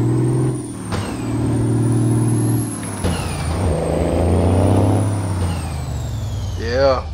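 A heavy truck in the American Truck Simulator game revs its engine with a strong, rising drone, then an air brake releases a sharp hiss near the end.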